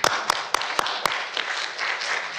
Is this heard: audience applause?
yes